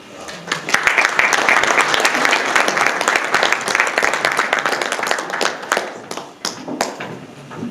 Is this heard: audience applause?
yes